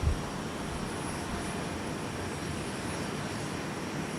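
Airliner jet engines roaring during takeoff at Minneapolis–St. Paul airport, a steady broad rumble held at even loudness throughout, fairly distant and without voices.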